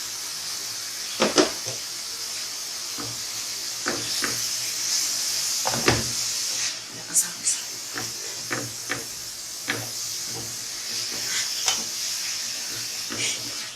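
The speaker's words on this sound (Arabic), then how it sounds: "دابا غنخوي الجعده حتى هي تشحر مزيان" Chopped vegetables and aromatics sautéing in a pan while preparing chicken and vegetable filling for Moroccan msemen, with a steady soft sizzle under scattered clanks and stirring knocks of a utensil against the pan.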